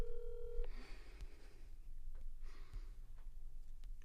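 A telephone keypad sounds one short electronic dialing tone at the start, then only quiet room noise and soft breathing follow.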